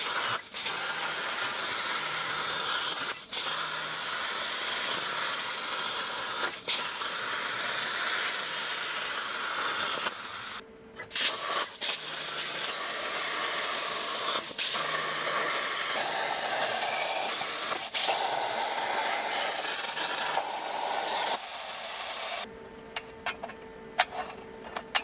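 Steel plates for a lowered car build are cut with a continuous loud hissing roar, likely a plasma cutter, broken by brief pauses and clicks, ending with a thinner whine.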